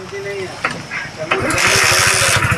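A Hero Splendor BS6 motorcycle with a starting problem is kicked over a few times and then fires up, its single-cylinder engine settling into a steady, loud idle.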